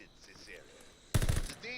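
A short, loud automatic burst from a gun in Call of Duty: Vanguard Zombies breaks out suddenly after quiet game ambience and a faint voice, then stops.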